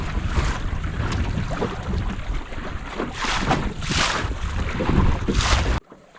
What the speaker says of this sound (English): Oh, now we have some more wind.